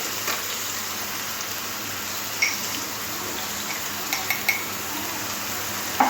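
Potatoes are stirred and fried in oil in a pan with salt and turmeric, a steady close sizzle broken by occasional scraping clinks of the utensil against the pan.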